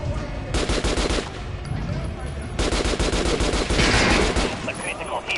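Automatic gunfire rattles at a shooting range in the video game Metro, long bursts of rapid shots with brief pauses between them, loud and close.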